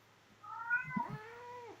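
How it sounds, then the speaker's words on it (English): A female pet cat in heat gives one drawn-out, wavering yowl close by over a low steady hum, rising then sliding down in pitch. "That's my cat, and she's looking for a boyfriend right now."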